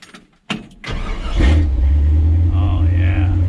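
A 1968 Chevy C20 truck with a big block V8 rumbles loudly up close, a heavy steady low drone after a brief start and rising revs, with faint tones overhead.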